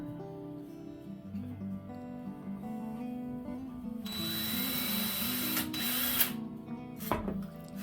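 A power drill bores a small pilot hole while building insulated Roman blinds in a bus conversion, a bright whirring burst of a few seconds rising over quiet background hum, with a short extra buzz near the end.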